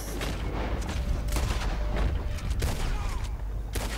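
Repeated gunfire from Red Dead Online, a dense run of sharp broadband shots and booms at steady loudness over a busy game soundscape.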